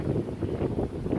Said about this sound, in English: It's gusting. It's not too strong, but it's getting there.